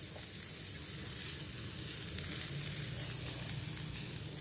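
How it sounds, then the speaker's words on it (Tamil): Grated coconut frying in ghee in a pan, making a faint, even, continuous sizzle with no pauses and no speech. "தேங்காய் இப்படி நெய்யில் வறுத்து நீங்கள் சேர்த்திங்க"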